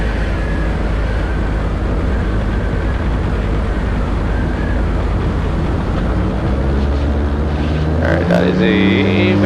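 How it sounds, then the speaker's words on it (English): Heard from a Super Petrel amphibious aircraft on the water, a steady low engine rumble with wind and water noise, building toward the end as a large boat nears, with a horn-like tonal blast near the close. "That is a very large boat coming our way."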